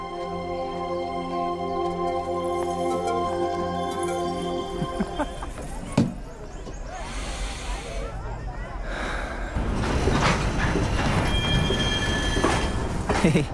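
A train pulls through, starting with long sustained horn-like tones over the rolling wagons. A sharp clank follows, then a louder, rougher rumble of wheels and carriages fills the scene.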